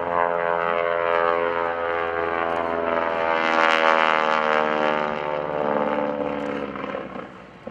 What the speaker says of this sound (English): you'll actually hear the air and the engine sputter, and watch for the flaming restart